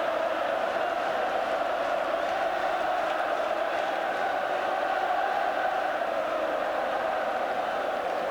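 A huge football crowd roars steadily at Hampden Park during the 1988 Scottish Cup Final, Celtic against Dundee United, a dense, continuous wall of cheering and chanting that holds even and loud throughout.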